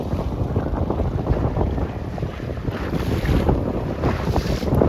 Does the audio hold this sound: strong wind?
yes